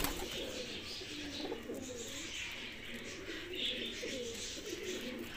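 Soft, repeated cooing from pet pigeons in low murmuring phrases, steady and moderately close, over a faint background hiss.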